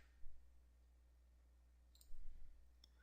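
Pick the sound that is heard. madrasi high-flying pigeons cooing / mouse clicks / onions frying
mouse clicks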